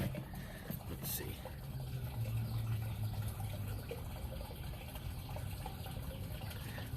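Continuous flowing water rushes steadily throughout, a dense broadband wash with a faint low murmur underneath.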